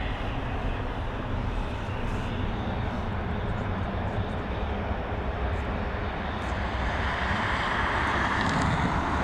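A fixed-wing airliner lands at Dublin Airport, heard as a continuous broad engine roar mixed with wind noise. It swells slightly toward the end and carries on steadily without any talk.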